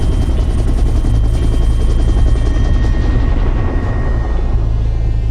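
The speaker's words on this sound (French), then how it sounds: "Le bruit est assourdissant. L'hélicoptère vole en stationnaire." A helicopter hovers low over a prison courtyard with a deafening, steady rotor roar. The throbbing wash stays close and loud throughout, with no voices.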